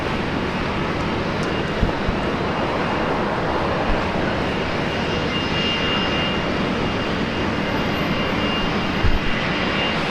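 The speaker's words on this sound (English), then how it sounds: "One of the oldest Fokker 100s in the world here at Alliance Airlines" An Alliance Airlines Fokker 100 jet at Brisbane Airport, its engines giving a loud, steady roar throughout, close and continuous with no speech.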